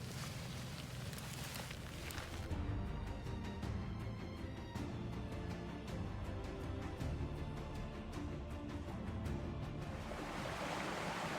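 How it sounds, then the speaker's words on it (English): A small waterfall section on Burro Creek in Arizona, a constant rushing splash of water close by, continuous and fairly loud with a faint rhythmic clicking over it and no talk. "Just found this nice little, might be hard to tell, this nice little waterfall section."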